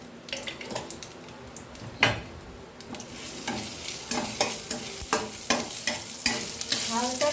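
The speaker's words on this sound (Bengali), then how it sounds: "জিরে দিয়ে দিলাম" Cumin seeds crackle in hot mustard oil in a kadai with bay leaf and dried red chilli, a soft sizzle broken by regular scraping stirs and clinks of a spatula against the pan.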